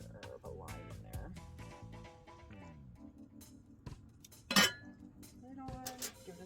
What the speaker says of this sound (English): We're going to put this lid back on after we squirt a quarter of a lime in there.